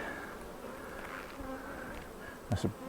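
Honey bees crawl over a Flow hive frame in a steady, close buzzing hum, with two brief louder swells of wingbeats near the end.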